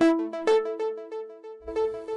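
The Plunk bass preset on the Sytrus synthesizer plays a run of short, bright plucked notes in a steady rhythm, clean and close, with a low thump entering near the end.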